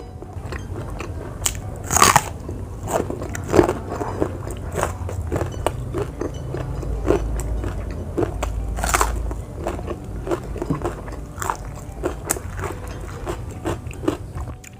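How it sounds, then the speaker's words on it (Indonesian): Raw banana heart eaten with kecombrang sambal gives crisp, close bites followed by steady crunchy chewing with irregular sharp crackles throughout. "Kita cobain jantung pisangnya pakai sambal kecombrang."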